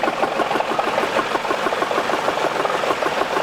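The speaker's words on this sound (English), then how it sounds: "This is a John Deere" John Deere 1020 tractor engine idling at a steam rally, a steady rhythmic mid-pitched chug with even firing pulses, fairly close and heard alone without talk.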